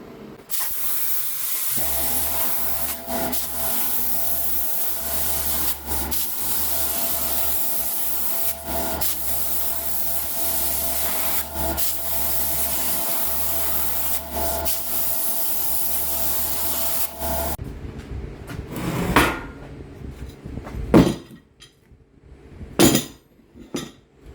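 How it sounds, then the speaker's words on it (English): Steel gussets for engine hoist caster mounts being cut, a loud continuous grinding hiss with brief breaks that stops near the end, followed by scattered clanks and handling noises. "We're going to cut some gussets to help support those caster mounts because they're going to be cantilevered past the frame."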